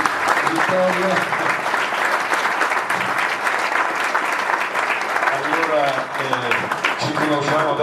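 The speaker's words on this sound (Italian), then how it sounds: "se ti alzi in piedi un applauso vorrei nei confronti di Vittorio" Audience applause at an Italian book presentation, steady dense clapping filling the whole stretch with a few voices talking and calling out over it.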